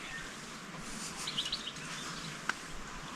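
Small birds chirp in a few brief, faint bursts over a steady outdoor hush along a trail in the Beskid Niski mountains, with no voices present.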